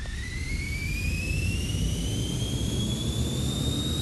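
A jet airliner's engines spin up in the Plane Crash 3D game, a loud continuous roaring whine whose pitch climbs steadily throughout, with no talk.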